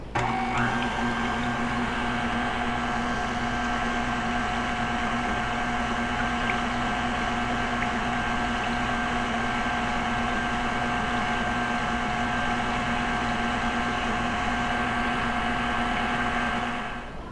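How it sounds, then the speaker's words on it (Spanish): An electric mixer beats condensed milk with vanilla ice cream ingredients, a loud steady motor whine with constant whirring that runs unbroken for the whole stretch before easing off at the end. "Ahora vamos a batir los ingredientes hasta que se mezclen bien"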